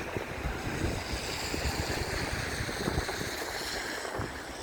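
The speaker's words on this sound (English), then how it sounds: "Wind's getting up a bit now as well" Steady gusting wind on an overcast, rainy April morning in Blackpool, a continuous broad rushing roar buffeting the microphone with no breaks.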